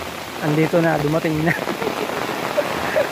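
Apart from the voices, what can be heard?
heavy rain in a typhoon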